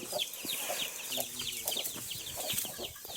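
Podi chickens cluck repeatedly on a farm in a steady, busy scatter of short calls, fairly close, with faint bird chirps above and no talking.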